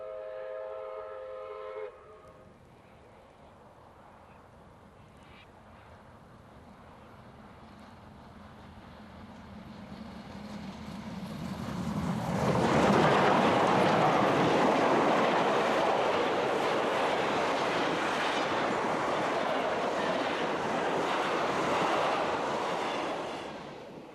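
South Australian Railways steam locomotive 621 "Duke of Edinburgh" races with its train on Victorian track in 1994. A short whistle blast comes first, then the rumble of the running train builds and stays loud until near the end.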